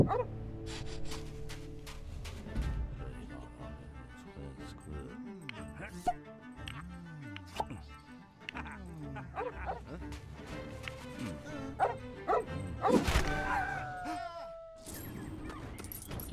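A guard dog in LEGO Pirates of the Caribbean barks and yips in short bursts, mixed in with game music and other scattered effects throughout.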